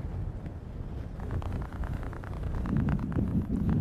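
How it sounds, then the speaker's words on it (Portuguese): Strong wind gusting across the open Peruvian desert, buffeting the microphone with heavy low rumbling that swells louder toward the end. "Nossa, que vento! Como venta aqui!"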